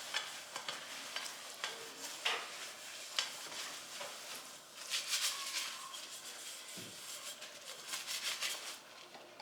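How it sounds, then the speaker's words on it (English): Dishes are washed in a kitchen sink: running water, clinks and scraping of crockery in an uneven, continuous stream of splashes, fairly quiet and close, with no talking. "I have to wash dishes now, guys."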